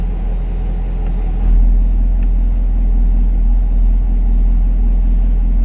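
Steady low exhaust rumble from a 2020 Chevy Camaro SS V8 idling in its quieter Snow and Ice drive mode, a continuous deep drone that swells slightly partway through, with no talking.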